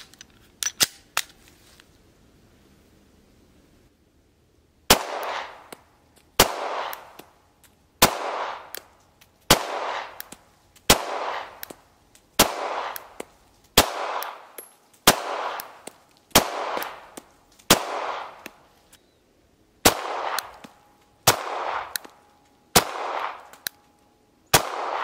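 A Beretta APX pistol fired at a target: one early shot, a pause, then a magazine of about fourteen evenly spaced sharp reports, each close and crisp with a short echo.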